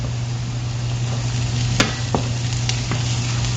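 Minced garlic and Maggi seasoning sizzle steadily in a frying pan while sautéed molokhia is being prepared, a continuous loud hiss broken by a few sharp clicks of stirring, with no talking.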